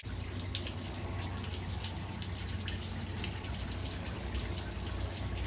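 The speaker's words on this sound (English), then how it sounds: "And water is just pouring." Water pouring and overflowing from a backed-up kitchen sink onto a flooded counter in a Los Angeles apartment, a loud, steady gushing rush close by with no talk.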